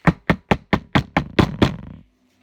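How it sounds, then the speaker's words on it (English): Eight heavy knocks pound on a wooden door in a quick, steady rhythm, loud and close, then stop abruptly into silence. "runs back and pounds on Miss Tibbetts' doors"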